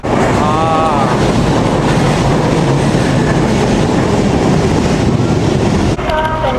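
A metro train in Manila rumbles along with a steady roar and rhythmic rail clatter, brakes or wheels squealing faintly at moments.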